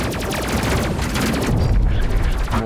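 Rapid, dense gunfire in the space combat video game Space Crew blasts at enemy ships as a loud, continuous fusillade of overlapping shots and booms, close and alone without talking.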